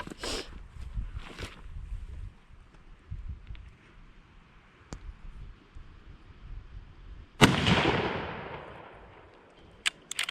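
Rifle shots ring out while a hunting rifle is sighted in before the season, outdoors: a few sharp, loud reports, the biggest near the middle with a lingering echoing tail, and faint background noise between.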